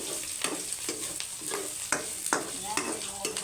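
Squash pieces browning in a hot pan, a steady sizzle broken by repeated sharp scraping strokes of a spatula about every half second, close and fairly loud with no talking.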